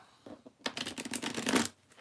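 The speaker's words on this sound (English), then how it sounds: "The cards they want one more shuffle." A deck of tarot cards is shuffled in a quick, crisp riffle lasting about a second, up close and fairly quiet, with no talking over it.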